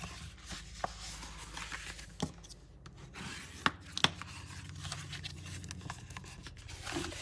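Bone folder rubbing along score lines on paper for a tall slim Halloween candy box, a close, quiet dry scraping and rubbing with a few sharper taps and strokes, no talking.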